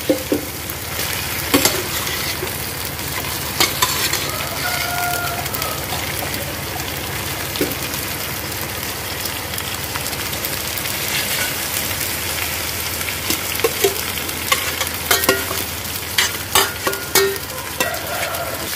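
Chicken pieces sizzle and crackle in a clay pot of fried tomato and spices for a village-style pulao, a continuous hiss with scattered scrapes and taps of a spoon, no voices.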